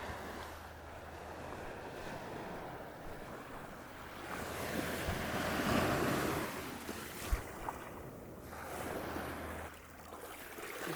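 Sea surf rolls and washes continuously along a shore with blow holes, a broad roar swelling and easing in long surges, with buffeting wind on the microphone and no voices.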